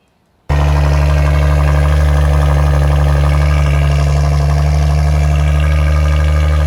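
A 2020 Maserati Levante V6 SUV engine cold-starts in sport mode after a brief moment of quiet, settling into a loud, steady, deep idle rumble with a raspy exhaust tone.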